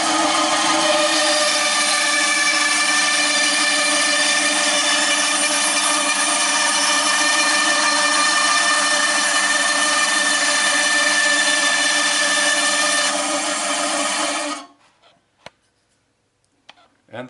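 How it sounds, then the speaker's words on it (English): A bandsaw cuts through viola wood with a loud, steady whining buzz that runs for about fourteen seconds before stopping abruptly, followed by a few faint knocks. "So I go over to the bandsaw and just cut this"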